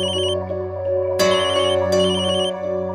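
A telephone rings loudly in a steady electronic ringtone pattern with two sharp bursts, alone without voices, in a Hindi TV drama household scene.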